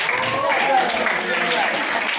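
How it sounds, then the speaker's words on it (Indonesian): A crowd of students at a school event claps in a steady, even wash of sound throughout, with a voice faintly audible within it. "Tepuk tangan untuk yang bermental kuat"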